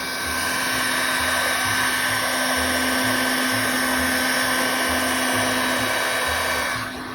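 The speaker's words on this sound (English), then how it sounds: "So I'm just going to blow some hot air in there." A heat gun blows hot air into the relay box of a 2009 Yamaha Phazer snowmobile. It makes a loud, constant whooshing roar with a steady underlying hum and no talking.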